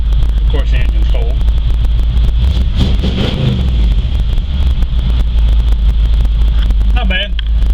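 A steady low engine rumble from a cold 1970s GMC pickup truck idling continuously throughout, with a person speaking briefly over it now and then.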